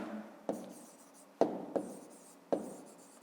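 Handwriting on paper during a maths exercise, close and quiet: a few crisp pen taps and short scratchy strokes, four distinct marks in about three seconds with no talk over them.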